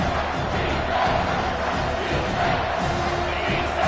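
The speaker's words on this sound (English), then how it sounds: "3rd down, and this crowd is tearing the lid off this place." A football stadium crowd roars steadily on a third-down play, a dense, loud wall of cheering and shouting that holds throughout with slight swells.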